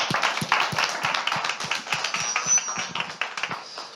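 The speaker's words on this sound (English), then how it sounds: "Applause, please." An audience at a startup pitch event claps steadily, many overlapping claps forming a dense patter of applause with no voices.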